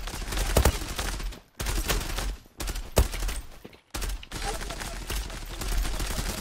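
Rapid video-game gunfire with bullets ricocheting comes in loud, dense bursts separated by short breaks, while voices talk under it.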